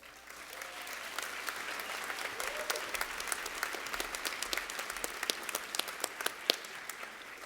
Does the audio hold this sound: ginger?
no